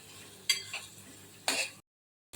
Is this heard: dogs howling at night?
no